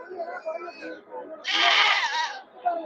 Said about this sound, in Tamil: நல்ல நல்ல ஆடுகள்லாம் கொண்டு வருவாங்க